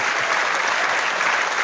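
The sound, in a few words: audience applause after concert song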